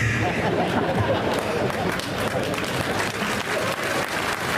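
Sustained audience applause at a Marathi political gathering with a former MP, dense clapping throughout, loud and steady with faint crowd murmur mixed in.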